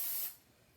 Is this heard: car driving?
no